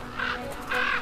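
Crows guarding a carcass on the ice give two loud, harsh caws in quick succession, close and clear, with no voices.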